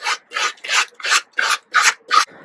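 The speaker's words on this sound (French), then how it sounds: "je prends un papier de verre avec des grains assez fins et je ponce afin de lisser la surface" Fine-grit sandpaper rubbed over the surface of a homemade dress form mannequin, seven steady back-and-forth rasping strokes close up, alone with no voices.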